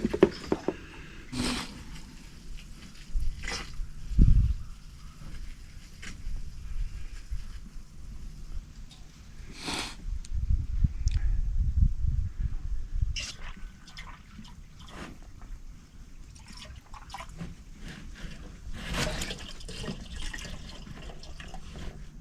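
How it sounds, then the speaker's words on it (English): Treatment fluid pours and splashes into a tank in a steady gurgling stream with occasional knocks and drips, close and moderately loud. "So I'm going to pour this in the tank."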